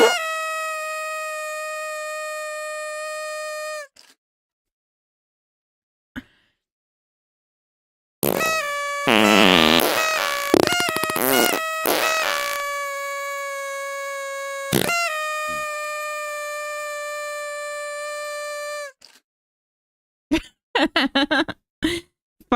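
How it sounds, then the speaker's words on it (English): Loud comedic fart noises blasted through a very long horn: a sustained buzzing honk, then a chaotic burst of warbling, sputtering blasts, another long droning honk, and a few short rasping toots at the end. "Farts in a really long horn."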